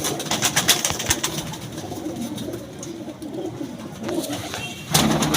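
A captive female pigeon cooing up close, its soft repeated coos sounding over a busy rooftop background with other birds calling, plus a sharper rustle or burst near the end.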